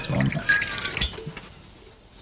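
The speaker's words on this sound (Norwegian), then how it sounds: "Litt vann." Tap water runs briefly into a cup beside a bathroom sink before teeth brushing, a splashing trickle that fades out after about a second, leaving quiet room tone.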